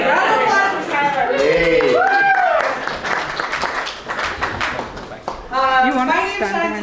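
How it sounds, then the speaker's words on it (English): Crowd applause at an indoor community event, a dense wash of clapping swelling and fading over several seconds, with voices and chatter mixed in above it. "Round of applause for Tyler."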